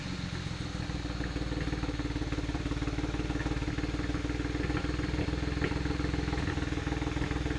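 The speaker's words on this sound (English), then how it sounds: "now we can go ahead and start the car" A BMW N54 engine, fresh from an injector change, runs at a steady idle with a fast, even mechanical clatter and a low throb throughout, close up and loud, with no talking.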